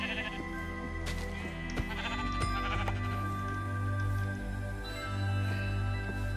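Sheep in the Minecraft video game bleat several times over a steady bed of in-game ambience, the short nasal calls recurring at moderate volume without any talk.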